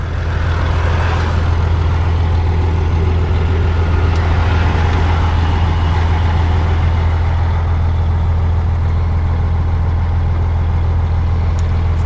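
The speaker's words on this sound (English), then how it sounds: "Well, the tow truck's here." A tow truck pulls up and reverses on a winter roadside to reach a broken-down vehicle, its heavy engine giving a steady, loud low rumble that holds evenly throughout with no pauses.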